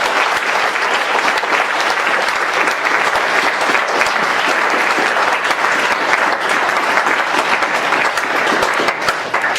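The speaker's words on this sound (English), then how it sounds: "Want to get a round of applause for our two speakers?" A conference audience gives steady, full applause for two speakers, an even, unbroken roar of many hands clapping for nearly ten seconds with no voices on top.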